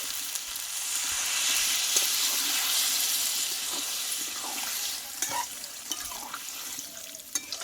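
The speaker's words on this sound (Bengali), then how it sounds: "এবার এখানে আমি জলটা আমি দিয়ে দেব" Water is poured into a pan of potato, pointed gourd and soybean curry, setting off a steady hiss and sizzle that later breaks into bubbling, clinks and stirring, with no talking.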